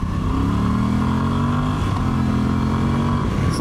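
A Moto Guzzi V85TT mid-size trail motorcycle engine accelerates, its rising tone climbing over a continuous loud drone with steady wind and road noise throughout.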